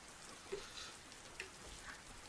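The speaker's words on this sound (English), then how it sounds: "it's raining" Light rain patters softly in a One Piece anime scene, a faint even hiss with a few scattered louder drops.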